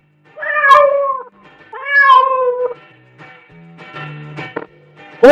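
A domestic cat gives two long, drawn-out meows close up and loud, followed by a few shorter, quieter mewing sounds and a final abrupt cry at the end.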